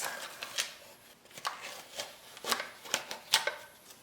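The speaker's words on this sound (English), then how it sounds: "I'm gonna take the tape off." Tape peeled off a desk in several short, crackly rips and rustles, close and fairly quiet, coming in uneven bursts.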